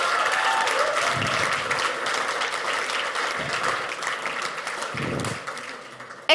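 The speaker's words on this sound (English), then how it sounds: "I think we can clap for that." An audience at a launch event for South Africa's professional domestic women's cricket league claps in sustained applause, fading near the end.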